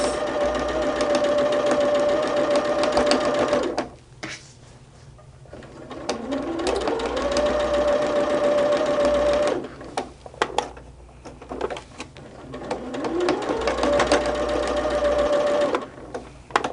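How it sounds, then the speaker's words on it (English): A sewing machine stitches the final seam joining two pink pineapple-pattern quilt halves, running in steady whirring bursts with two brief pauses where the motor stops and restarts. "We're sewing the 2 halves together."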